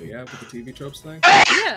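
One loud, abrupt sneeze bursts out right after a stretch of conversational speech, with a voice resuming briefly afterward.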